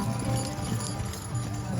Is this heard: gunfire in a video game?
no